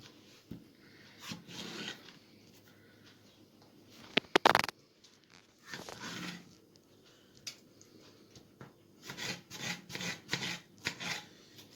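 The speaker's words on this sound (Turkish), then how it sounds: "Şimdi domatesimi de doğrayacağım." Fresh tomatoes being chopped with a knife on a board for a tomato peyvaz salad, heard as a short run of irregular, close cutting scrapes with a louder burst partway through and quiet pauses between.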